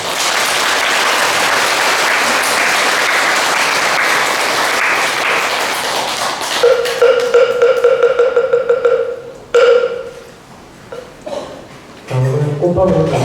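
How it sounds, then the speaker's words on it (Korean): A Buddhist temple congregation at a Sunday dharma service in Wonju applauds to welcome a visiting monk: loud, dense clapping for about six seconds that thins out, followed by scattered voices, a ringing tone and a few light laughs. "해피 스님을 환영하는 또 격려하는 큰 박수를 부탁드리겠습니다"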